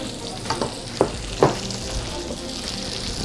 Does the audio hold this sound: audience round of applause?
no